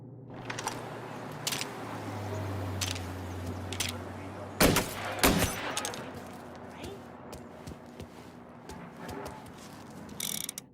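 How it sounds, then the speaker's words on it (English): Gunfire in the video game Mafia: Definitive Edition: scattered sharp shots and a brief burst of several reports midway, mixed with mechanical clicks and clatter over a low engine drone. "Gunshots being reported."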